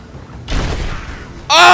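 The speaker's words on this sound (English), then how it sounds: "I hit it with an explosive arrow by accident." An explosive arrow blows up in the video game Rise of the Tomb Raider. A muffled boom rumbles for about a second, then a sharp, loud blast cuts in at the end.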